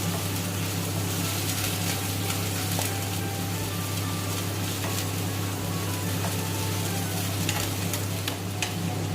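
Onions frying in a pan until nicely browned for dhaba-style paneer masala: a steady, close sizzle runs throughout with a constant low hum underneath and scattered faint scraping ticks from stirring.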